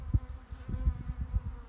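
Low, steady buzzing of many honey bees close by inside a jar, rising and falling in soft pulses with a muffled, enclosed quality.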